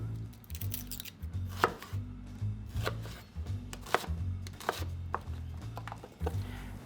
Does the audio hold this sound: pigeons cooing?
no